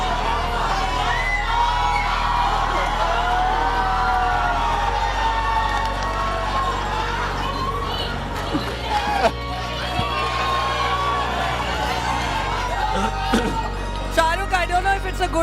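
A large crowd of boys screams, whoops and cheers continuously at a live event, loud and close throughout, with voices shouting over the roar.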